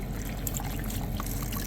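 Beef stock poured into a pot alongside tomatoes, a soft continuous trickling and splashing of liquid, fairly quiet and close.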